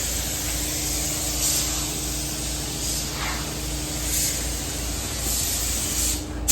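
Paint sprays steadily onto a 1965 C30 dually truck, a continuous close hiss with slight swells and no breaks or talking.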